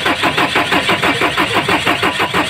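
A JAC vehicle's engine cranks over and over without catching, a steady rapid rhythmic churning of the starter, loud and close throughout.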